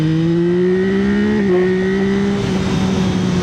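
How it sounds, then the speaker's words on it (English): A 2026 Yamaha MT-09 SP motorcycle pulls hard in second gear from about 4,000 RPM, its close engine note climbing steadily as one loud sustained rising drone with no talk. "Let's do a little acceleration after I get through this crappy intersection"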